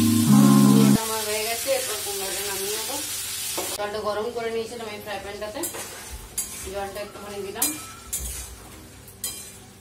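Spice paste with coriander powder, Kashmiri chilli and marinated chicken frying and being stirred in a pan, sizzling with scraping utensil strokes and clinks of metal cookware, loud at the start then softer.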